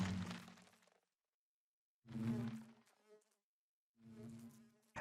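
Bees in the Minecraft modpack All The Mods 6 give three separate low, droning buzzes with silent gaps between them, each burst lasting about a second, close and clear with no talking.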